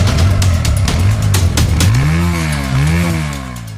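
A motorcycle engine revs loudly close by, the tone climbing and dipping through several throttle blips over a steady running rumble, with no talking.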